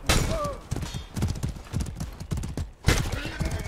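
A horse whinnies in the medieval combat game Mordhau, followed by rapid clip-clopping hooves, with thuds and battle noise mixed in, all close and fairly loud over a few seconds.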